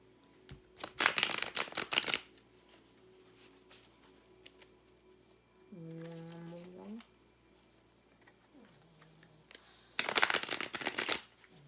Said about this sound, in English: I just shuffle however many times I'm told to shuffle